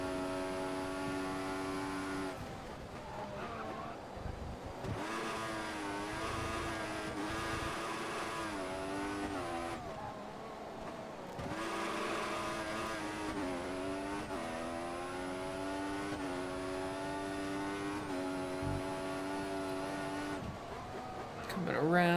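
Formula 1 car racing in F1 2014 on worn tires, its engine screaming high and loud through rising and falling revs and brief lifts, while a commentator speaks over the engine noise.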